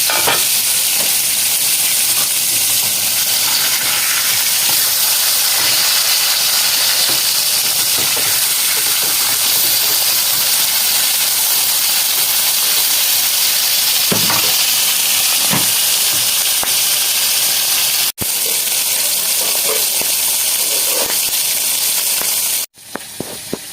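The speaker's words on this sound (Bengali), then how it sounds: "ওকে ঢাকা দিয়ে দিয়ে মাছটাকে ভাজবো বন্ধুরা। ঢাকাটা খুলছি।" Tengra fish frying in a covered pan gives a steady, loud, hissing sizzle that runs unbroken, with two sharp breaks near the end as the lid comes off. No one speaks.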